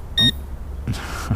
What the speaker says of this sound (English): Once you hear that beep, you've let it set too long